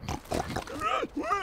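Cartoon pig oinking in an animated fantasy adventure, a few quick nasal grunts close up over a brief moment, with squeaky speech-like overtones that suggest a voiced imitation.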